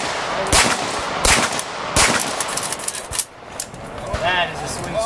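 Several loud pistol shots from a Canik handgun at an outdoor range event, sharp cracks spaced about a second apart, with voices and range noise between them.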